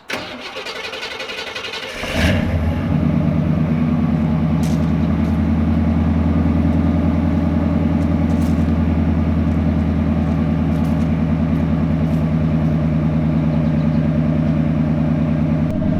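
A pickup truck engine with a vacuum leak cranks and catches, then settles into a steady, deep idle that rumbles loudly and evenly nearby.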